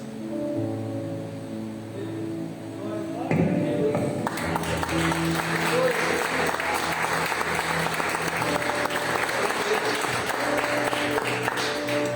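Church congregation applauding at a Wednesday evening worship service: broad clapping swells in around three seconds, then holds as a dense, steady wash of many hands over faint music.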